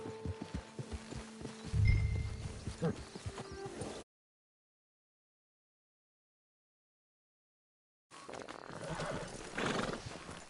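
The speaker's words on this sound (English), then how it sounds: "There's the camp. Get your horse." A horse whinnies and hooves clip-clop amid game-like ambience, cutting to silence for several seconds before the sounds resume.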